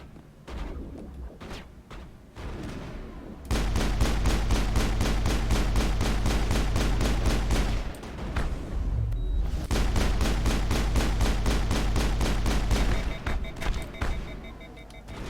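Rapid automatic gunfire from the video game Mass Effect crackles in dense, sustained bursts, loud and continuous for long stretches with a brief lull in between.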